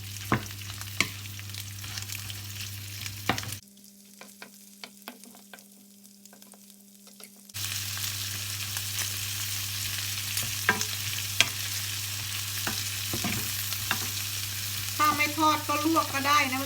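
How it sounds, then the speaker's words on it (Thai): Large shrimp stir-fried in a pan until cooked, for shrimp pad thai. A dense sizzle with frequent spatula scrapes and taps; it drops to a quiet hum for a few seconds midway, then returns. "ผัดให้สุกก่อน แล้วก็พักไว้แล้วเราก็มาทำผัดไทยทีหลังจ้ะ"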